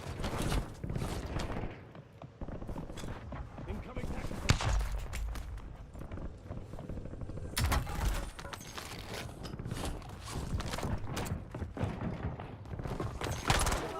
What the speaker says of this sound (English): Incoming shots!